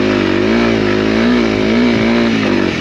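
A 2022 Honda CRF 300L on MT21 tyres gives a steady, close engine drone while being ridden, with no talk over it.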